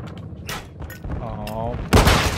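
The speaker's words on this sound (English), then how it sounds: "Friendly chopper gunner servicing targets." Helicopter gunner firing on targets in a military shooter video game, heard as short bursts of gunfire and booms, with a louder blast near the end, mixed with game voice and effects.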